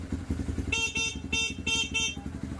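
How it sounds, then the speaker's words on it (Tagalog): The horn on a Rusi KR250 motorcycle blares in four loud, close honks of about a quarter second each. The engine keeps idling underneath with a rapid low putter. "Napakalakas po ng busina niya oh."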